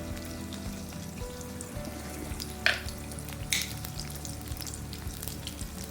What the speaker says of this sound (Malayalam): അത് വെള്ളമൊക്കെ ഒന്ന് ഊറ്റിക്കളഞ്ഞതിന് ശേഷം നമുക്കൊന്ന് ഫ്രൈ ചെയ്തെടുക്കാം